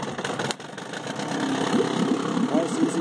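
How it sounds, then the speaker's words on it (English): A serviced 1968 Evinrude 9.5 HP outboard motor idles at low speed in neutral, a steady close mechanical putter that runs throughout the clip and grows slightly fuller toward the end. "Good low end idle."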